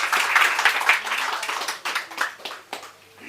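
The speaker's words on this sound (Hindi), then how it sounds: "तालियों से स्वागत करिए प्लीज़ आप लोग।" A short burst of audience clapping welcomes a speaker at a Dalit gathering marking Ambedkar's birth anniversary, dense at first and then thinning into a few scattered claps.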